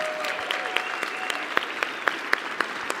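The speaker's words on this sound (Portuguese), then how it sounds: "Uma salva de palmas para lá isso" Audience applause at a staged event, steady clapping with a few sharper individual claps standing out, moderately loud and uninterrupted by talk.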